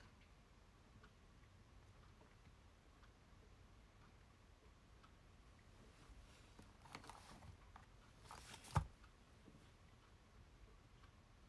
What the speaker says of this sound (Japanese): 時計の音？ 時計つけてる。